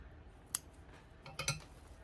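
A couple of quiet scissor snips through raffia yarn while making crochet dangle earrings, one short cut and then a double snip, faint and close with no voices.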